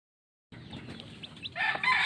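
Hens cluck softly at close range while chicks are fed, with a louder burst of squawking near the end as one hen attacks another, and no talking.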